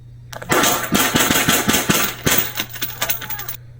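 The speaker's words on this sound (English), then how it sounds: "So he dumps a few rounds at the guy." A police officer fires rounds at a robbery suspect inside a Seattle cannabis shop: a rapid series of about seven loud, sharp reports in close succession, followed by clattering and rattling noise.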